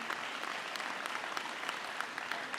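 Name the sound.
audience applause for a scholarship winner at an awards ceremony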